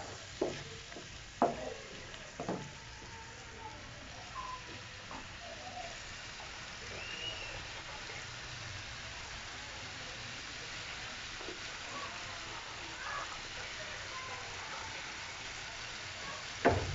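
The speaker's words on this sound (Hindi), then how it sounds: "और हम इसमें आधा कप पानी डालेंगे। थोड़ा सा पानी डालेंगे, थोड़ा थोड़ा करके डालेंगे।" Water added a little at a time to an egg jalfrezi frying in a pan gives a steady, close hiss of sizzling, with a few soft knocks of stirring early on.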